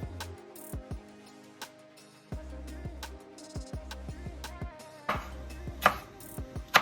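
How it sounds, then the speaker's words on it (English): Knife slicing chilies on a cutting board for a vegetarian chili, a run of sharp close taps with irregular spacing, some clustered quickly and some after short pauses, with no voices. "So we're just going to go ahead and also slice these chilies."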